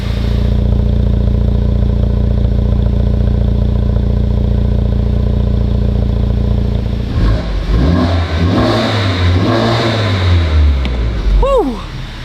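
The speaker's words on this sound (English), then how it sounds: "the HKS exhaust just is a really great sounding exhaust" A Honda Civic Type R with a big turbo, downpipe and HKS exhaust idles loudly and steadily, then revs up and down in a couple of rising and falling sweeps, ending with a turbo whistle.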